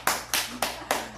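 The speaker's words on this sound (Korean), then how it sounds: "박수 한번 쳐요." Four sharp claps from a church congregation land in an even, steady rhythm, crisp and close, like a group clapping in unison.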